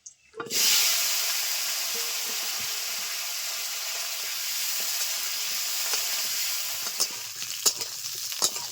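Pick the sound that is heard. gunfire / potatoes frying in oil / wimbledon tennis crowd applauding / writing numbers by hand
potatoes frying in oil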